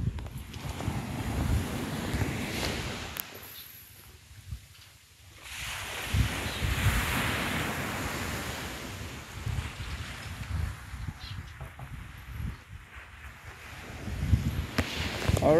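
Waves roll onto the beach at Bauang, La Union as a steady wash of surf heard close by, with heavy wind buffeting the microphone and the noise rising and easing in broad swells.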